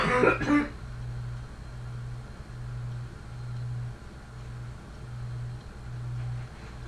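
A short burst of coughing right at the start, then quiet apart from a low, steady hum that pulses in a slow, even rhythm.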